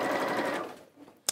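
A sewing machine whirs briefly and loudly up close, then winds down and stops, leaving a sharp click at the end.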